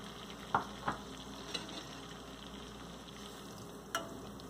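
Onions fry in a pan for restaurant-style butter chicken, a faint, even sizzle with a few sharp clicks of a spoon against the pan.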